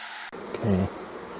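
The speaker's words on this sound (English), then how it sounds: "I need some nice bees." Honeybees buzz around an open hive during a late-season brood chamber inspection: a close, steady hum swells for a moment and then fades back into a quieter background drone.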